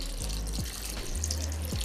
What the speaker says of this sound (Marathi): मी आता भांड्यावरचं झाकण काढते आणि त्यामध्ये आता मी पाणी ओतते